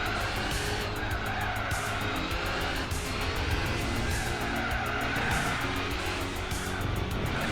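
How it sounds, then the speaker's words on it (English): Tires squealing almost without a break in Gran Turismo 4 during a race lap, from understeer or wheel spin. A steady, loud screech runs over a continuous engine roar, with brief pulses as the car works through corners. "They're squealing basically the whole lap, either from understeer or wheel spin."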